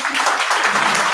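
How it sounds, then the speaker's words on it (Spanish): An audience at a conference lecture gives a brief round of applause, a dense, even patter of clapping with no voices on top. "Otro aplauso, por favor."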